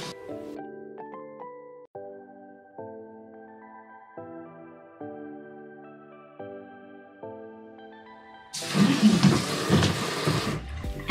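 Water runs into an RV sink for the rinse, a loud rushing splash that starts abruptly near the end after a stretch of soft background piano music.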